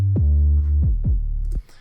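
808 bass in a hip-hop beat alternating between a higher and a lower octave, four booming sliding hits in a steady pattern, loud and close with no voices.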